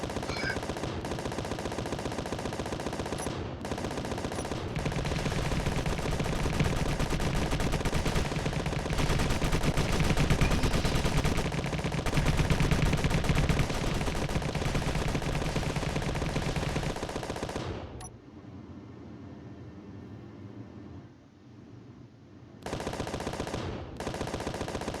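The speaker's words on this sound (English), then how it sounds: "I'm gonna try my best at leading and shooting at you with the autocannon." An autocannon in Space Engineers fires in a long, dense, unbroken stream of rapid shots, loud and close, then falls silent before a short final burst.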